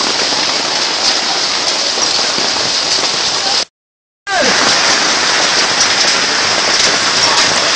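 Hail pelts outdoor surfaces in a dense, loud, hissing patter that continues almost unbroken, apart from a short stretch of dead silence partway through.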